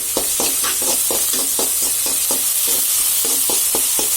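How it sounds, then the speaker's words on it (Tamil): Onion, green chili and curry leaves sautéing in hot oil: a loud continuous sizzle with a regular rhythm of spatula scrapes against the pan, close and steady throughout. "வெங்காயம் சேர்த்துக்கலாம். பச்சை மிளகாவும் கருவேப்பிலையும் சேர்த்து நல்லா வதக்கிக்கலாம்."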